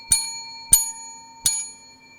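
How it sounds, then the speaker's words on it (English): Three sharp, bright bicycle-bell dings ring out in an even rhythm, each with a short metallic decay, used as a sound effect with no talking over them. "The bell."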